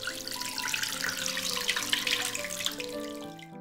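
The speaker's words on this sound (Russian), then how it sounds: "Заливаем холодной водой" Cold water runs from a tap into a pot holding a 400-gram chicken breast, a steady splashing stream whose pitch rises gradually as the pot fills, close and continuous.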